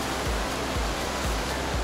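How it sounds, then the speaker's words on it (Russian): A mountain river with waterfalls in the park near the grotto of Simon the Canaanite in Abkhazia, heard as a steady, loud broadband rush of falling water that fills the whole moment, with no voices. "Горная река, водопады."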